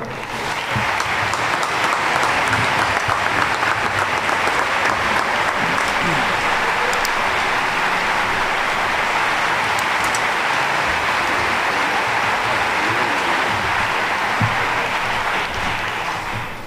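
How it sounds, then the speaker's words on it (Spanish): A large audience at a charity concert in Cartagena gives sustained, loud applause to welcome a military bandmaster, a dense, even roar of clapping that continues for over fifteen seconds. "Recibamos ya con un fuerte aplauso al capitán músico Víctor Enguídanos Royo"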